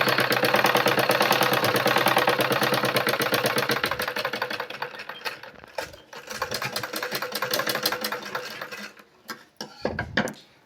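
Sewing machine stitching a blouse, its rapid mechanical chatter running steady and loud for about eight seconds, then breaking into shorter bursts with brief pauses near the end.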